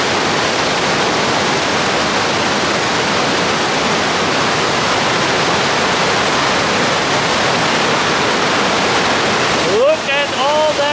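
A waterfall at an old mining town in Norway roars in a dense, steady rush of water, loud and close, continuing unbroken until a brief sound cuts in at the very end.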